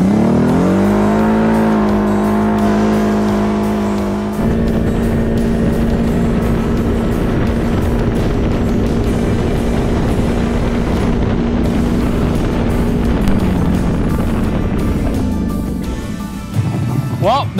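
A CFMOTO 1000 side-by-side accelerates hard in high range on speed test runs, its engine whine climbing through gears to a sustained loud drone before easing off near the end.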